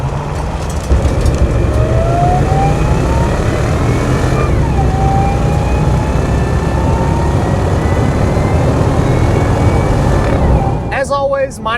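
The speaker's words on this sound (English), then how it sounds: "See if we can't get a little tire chirp from the old Harley truck today." A supercharged 2002 Ford F-150 Harley-Davidson edition pickup with a 5.4 V8 accelerating, loud steady engine roar with rising gear-change sweeps, heard from inside the cab and ending abruptly.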